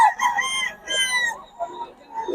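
Chickens cluck and a rooster crows nearby at a rainy poultry market, several calls overlapping in a short burst of farmyard noise.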